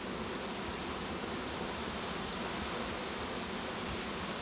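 Honey bees buzzing from an opened hive, a dense steady drone of many insects close by, continuous and even in loudness with no talk.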